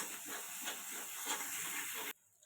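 Spice masala with chilli powder and salt sautéing in a pan for egg curry, a steady close hiss and sizzle with faint stirring scrapes that cuts off abruptly near the end.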